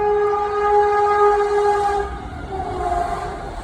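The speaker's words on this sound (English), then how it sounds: "That's a train passing." Train passing at a distance in a Northern California orchard, its multi-tone horn sounding a steady chord for about two seconds, then a lower softer horn note under a continuous rumble.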